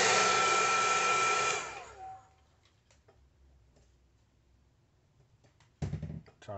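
Heat gun blowing to heat-set paint on a homemade 3D stencil, a loud steady whoosh that stops about two seconds in, followed by quiet small clicks and a brief knock near the end.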